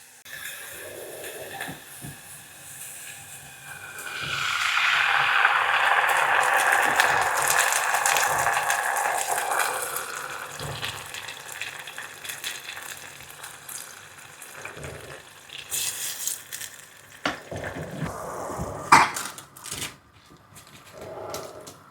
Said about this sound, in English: Onion is getting nice color and now we can add our sauce.